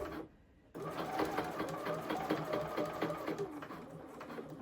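A sewing machine stitches around the corner of a blazer pocket flap, running with a steady, rapid mechanical patter after a short quiet start, close and clear.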